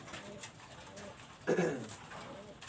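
Flying pigeons of imported bloodline coo softly and repeatedly nearby, with one louder burst of cooing and wing-flutter in the middle against quiet background noise.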